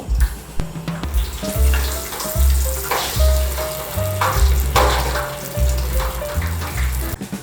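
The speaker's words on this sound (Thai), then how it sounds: "ใส่ไปในตะแกรงนี้ แล้วก็จุ่มลงไปในน้ำมันร้อนๆนะครับ" Food frying in hot oil in a commercial electric deep fryer, a steady crackling sizzle with bubbling bursts and a few brief tonal notes, close and fairly loud.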